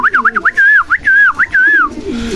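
A red chakai pigeon calls up close in a loft, a quick run of rising and falling whistled coos in rapid succession, loud and clear with no talk over it.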